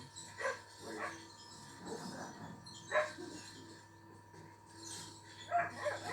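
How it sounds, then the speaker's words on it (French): A dog barks a few times in short bursts at moderate distance in a video game cemetery, with quiet pauses and a low steady hum underneath; no talking. "Ok, c'était un chien."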